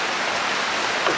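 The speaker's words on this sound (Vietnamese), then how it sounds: "Mưa quá trời mưa." Steady rain falls in a rural Mekong Delta cooking setting, a dense, even hiss of drops pattering on surfaces close by, continuous and moderately loud with no voices.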